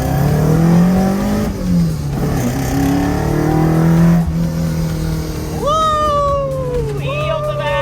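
A Toyota AE86 engine with individual throttle bodies idles with a steady low drone, then revs sharply twice near the end, the pitch climbing and falling; people talk over the start.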